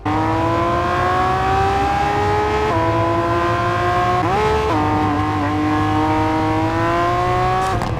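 A loud racing engine in a mobile racing video game drones at high revs, pitch climbing steadily, with a brief dip and gear change midway before rising again.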